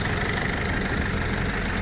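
A minibus engine idles with a steady, low rumble evenly throughout, with a faint mechanical knock and no voices.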